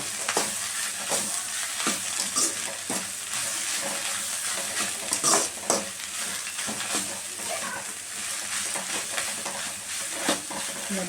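Leaves for akora fry sizzling and frying in a pan while being stirred, giving a loud continuous hiss with scraping spoon strokes over it and no speech.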